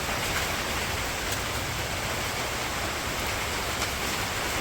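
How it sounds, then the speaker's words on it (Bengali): Rain falling outdoors in a village during the paddy harvest season, a steady, even wash of dense patter filling the scene at moderate level, no voices. "আর এই যে বৃষ্টি করতেছে।"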